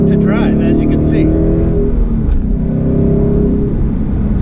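A supercharged car accelerates in a loud, close engine drone with a deep, steady rumble and rising harmonics. Brief speech sits faintly over the engine at the start.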